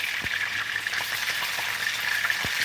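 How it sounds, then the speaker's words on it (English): Stew greens sizzle in hot organic cold-pressed coconut oil, a steady close frying hiss with a few soft stirring taps, no voices over it. "We are sealing, we are not deep frying."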